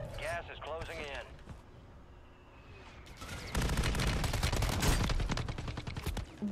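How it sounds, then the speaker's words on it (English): Rapid gunfire from the video game Call of Duty, loud bursts of automatic shots in the second half over game ambience, with a voice talking briefly at the start. "Why are my shots not connecting?"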